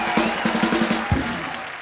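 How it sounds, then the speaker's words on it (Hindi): Brief audience applause for a guest on a comedy TV talk show, scattered claps under a lively voice that runs through the whole moment. "जोरदार तालियां हो जाए ऋतिक भाई के लिए।"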